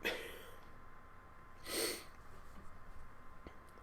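A sneeze bursts out once near the middle, moderately loud and close, with a faint breathy snort at the very start and quiet room noise otherwise.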